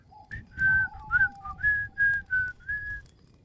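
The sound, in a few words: person whistling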